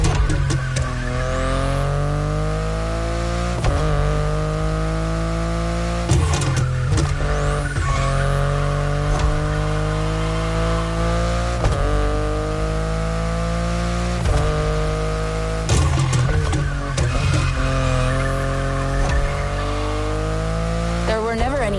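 A BMW i8 sports car driven in the racing video game The Crew, its engine droning loudly and continuously, with rising revs that repeatedly drop back at gear shifts.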